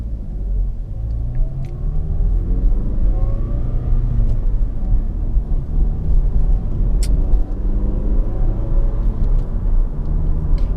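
A 2017/2018 Mazda 3 car cruising at night, with a steady, loud low-frequency road and engine rumble from inside the cabin that holds even throughout, with a few faint ticks above it and no talking.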